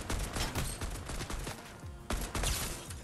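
Dense bursts of rapid gunfire from a Fortnite match fill the moment, overlapping shots rattling continuously with a brief lull before another loud volley.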